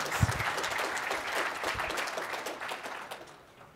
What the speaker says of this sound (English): Round of applause for Axelle.